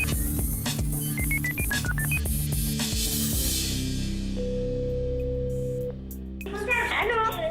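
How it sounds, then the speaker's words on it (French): Telephone number dialed on a keypad, a quick run of short DTMF beeps in uneven rhythm, then a steady ringback tone before a voice answers at the end, with music playing underneath throughout. "en appelant bien sûr votre ex-compagne. La régie fait maintenant son numéro."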